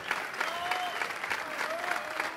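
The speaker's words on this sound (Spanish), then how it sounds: "Un fuerte aplauso para ellos." A comedy show audience claps steadily, a dense patter of many hands at moderate volume, with a few faint voices mixed in.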